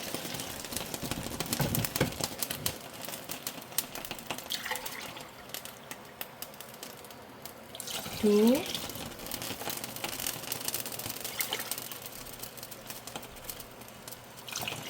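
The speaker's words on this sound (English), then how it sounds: "I'm going to add 3 glasses of this size of water." Water is poured from a large glass into a pot of kimchi stew in a kitchen, a few short splashing pours interrupted by crinkling and handling noises, with a person talking throughout.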